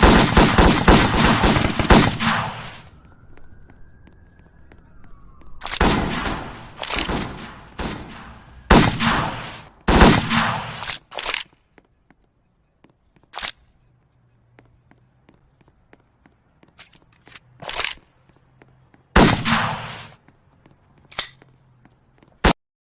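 Several sharp bursts of small-caliber gunfire in an East Brickton Roblox roleplay game: dense volleys early, then scattered single shots and short clusters separated by quiet gaps.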